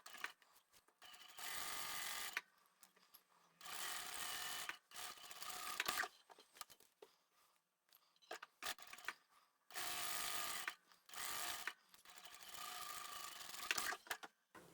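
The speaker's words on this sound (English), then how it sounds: "for the outer fabric, we're going to sew straight down both sides" A sewing machine runs straight side seams on the outer fabric of a reversible boho sling bag, whirring in several separate bursts of a few seconds each with short pauses between them.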